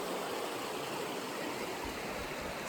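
Watchtower Creek in the Watchtower Basin rushing steadily on a backpacking trail, a dense, even wash of flowing water close by with no talk over it.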